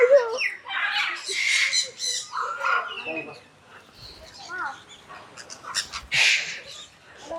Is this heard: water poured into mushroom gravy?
no